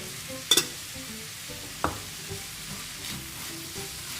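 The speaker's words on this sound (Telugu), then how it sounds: "అన్నీ బాగా కలుపుకోవాలి" A spatula stirs beetroot fry with coriander powder and green chili in a pan. A soft sizzle runs underneath, with a few sharp scrapes and light knocks near the start.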